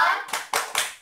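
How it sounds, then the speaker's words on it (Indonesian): Schoolchildren in a third-grade classroom perform the rhythmic 'tepuk jempol' clap, three crisp, evenly spaced group claps following a short spoken cue. "kita beri tepuk jempol terlebih dahulu untuk teman kita Susan ya"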